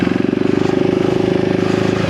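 A 2025 KTM 390 Enduro R motorcycle revs steadily in off-road mode, its engine pulsing in a fast, even throttle-driven rhythm that stays loud and close for the whole stretch, with no voices over it.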